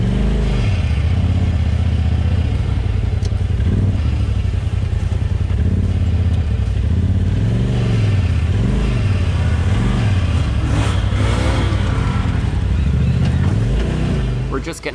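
Kawasaki KRX 1000 side-by-side UTV on a winter ravine trail, its engine running loud and close throughout, with a steady drone that rises and falls in repeated revs.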